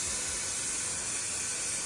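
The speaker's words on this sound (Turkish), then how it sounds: "Hayır önden sıkacağım böyle ya, saç spreyi saçım arkası dik dursun ya." Hair spray hissing from an aerosol can in one loud, close, continuous burst lasting about two seconds.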